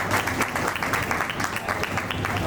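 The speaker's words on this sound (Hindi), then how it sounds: "तालियां बजती रहनी चाहिए, तालियां रुके नहीं" An audience at the Uttarakhand Creator Connect event in Kichha keeps up dense, continuous applause, a steady wash of many hands clapping.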